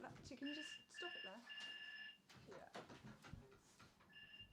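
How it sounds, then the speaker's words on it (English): A home doorbell rings in a few repeated electronic tones at moderate level, with people talking over and between the chimes. "our doorbell ringing."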